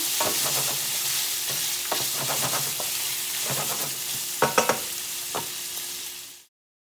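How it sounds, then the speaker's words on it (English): Sausage browns in a pot for one-pot jambalaya, a steady close sizzle broken by repeated scraping stirs from a utensil, then cutting off abruptly at the end. "So as the sausage continues to get brown, we're just gonna keep stirring it around."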